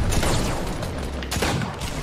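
Heavy tank gunfire in the game TANX, loud booming shots and crackling bursts filling a short stretch of battle noise, dense and close throughout.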